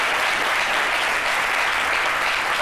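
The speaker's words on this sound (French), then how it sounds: "Et de grands applaudissements pour vous" A studio audience on a French-language midday TV show gives sustained, even applause, a thick wall of many hands clapping at steady loudness throughout, with no talk on top.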